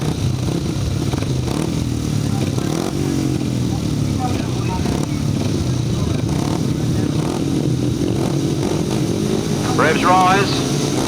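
Racing sidecar motorcycle engines on a start grid rev hard together in a loud, sustained roar before the tapes fly, with a commentator talking over the din throughout.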